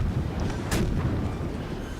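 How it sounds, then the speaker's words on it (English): A ship's secondary guns fire in the naval combat game World of Warships: a continuous low rumbling barrage with one brighter crack near the middle, steady and moderately loud, with no voices. "he comes along for a broadside, and secondaries open up on him"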